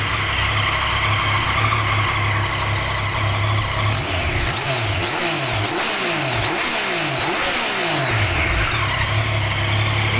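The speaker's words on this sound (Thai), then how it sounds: "เดี๋ยวผมจะพาไปฟังเสียงท่อเดิม" A 2018 Yamaha XSR900 ABS motorcycle with its stock exhaust idles loudly nearby, then its throttle is blipped in a series of quick revs that rise and fall before settling back.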